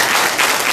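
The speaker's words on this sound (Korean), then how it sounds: "박수 치고" A church forum audience applauds in a short, loud burst of dense clapping, steady from start to finish with no speech.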